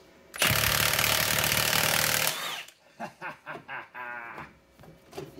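An impact wrench with a weighted socket hammering on a Honda V6 crank pulley bolt: a loud, close two-second rattling burst, then several shorter rhythmic pulses of the tool.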